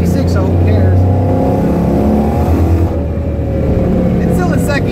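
A car fitted with a T56 manual gearbox and Mantic clutch drives hard in second gear, its engine droning loud and steady with a sustained rising-then-level pitch, heard from inside the car, no talk.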